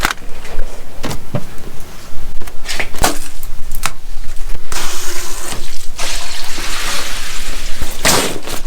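Water gushes steadily from a tap at a camper on wash day, a loud continuous stream with a few sharp knocks and clunks, no voices.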